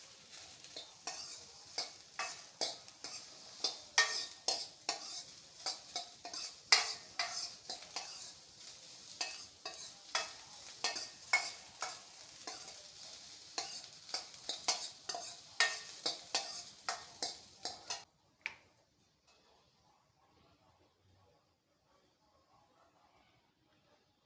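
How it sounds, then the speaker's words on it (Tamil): Sliced radish sautéed and stirred in a pan for a tamarind kuzhambu, with rapid spoon scrapes and clinks over a constant sizzle that stop abruptly, followed by near silence. "முள்ளங்கி நாங்கள் இந்த மாதிரி வதக்கிட்டு நாங்கள் குழம்புல சேர்த்தோம்"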